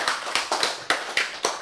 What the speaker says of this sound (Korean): 박수 이래야지.